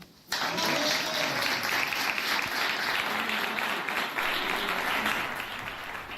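Audience applause at a live radio broadcast event, a dense steady wash of clapping that starts suddenly and holds for several seconds before easing slightly, with a faint voice underneath.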